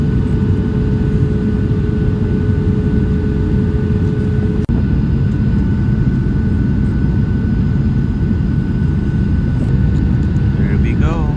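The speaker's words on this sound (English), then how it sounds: "we're about to land at Newark International Airport" Inside a Boeing 757-200 landing at Newark International Airport, a loud, steady cabin roar of engine and airflow runs throughout, with faint voices beneath it.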